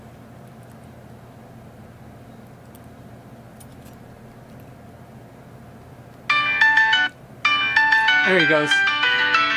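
A Nut key finder tag, triggered by a double button press, plays a bright electronic ringtone melody. It starts loud and close after a quiet stretch, pauses briefly, then resumes while someone speaks.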